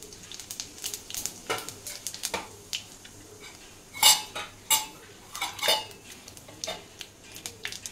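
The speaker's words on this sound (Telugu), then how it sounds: "ఆయిల్ హీట్ అయిందండి, కొద్దిగా ఆవాలు ఇంకా జీలకర్ర వేసుకుంటున్నాను." Mustard seeds and cumin drop into hot oil in a pan, with light sizzling and crackling around sharp metallic clinks and scrapes of a spoon against the pan.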